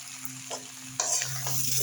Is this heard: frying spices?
yes